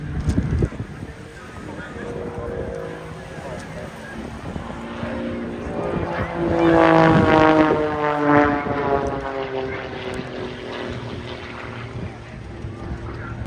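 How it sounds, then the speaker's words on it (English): A Boeing Stearman biplane flies at an air show in Ireland, its propeller engine droning steadily with a rising, shifting pitch as it passes, mixed with wind noise on the microphone. "And now smoke of the Boeing Stearman aircraft."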